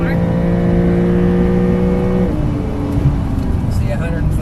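A Porsche 992.1 Carrera S engine pulls hard on a race track, its tone climbing under throttle, then the pitch drops as it shifts midway before building again, loud and steady throughout from inside the car.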